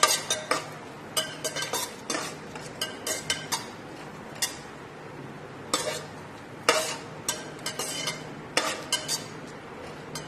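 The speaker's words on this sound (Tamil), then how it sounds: "இப்போ இந்த இஞ்சி பூண்டு பேஸ்ட் பச்சை வாசனை போகிற வரைக்கும் நல்லா வேகட்டும்." Ginger garlic paste fries in a pan under a soft, continuous sizzle, broken by sharp scraping and tapping clicks from a stirring utensil at irregular intervals, fairly quiet overall.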